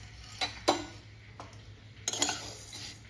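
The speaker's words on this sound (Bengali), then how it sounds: "সেমিয়াটাকে এবার ভালোভাবে এখানে ফ্রাই করে নেব গোল্ডেন কালার করে" Vermicelli stirred in hot ghee in a pan, a few sparse scraping clinks of a utensil against the metal at irregular intervals over a faint low hum, quiet and close.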